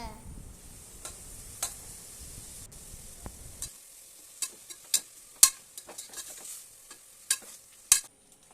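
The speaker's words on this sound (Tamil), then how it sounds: "தக்காளி போட்டு நல்லா வதக்கிக்கோங்க." Tomatoes sautéing in a pan for country chicken biryani, with soft sizzling that drops away partway through, then scattered sharp scrapes and taps of a spoon stirring against the pan.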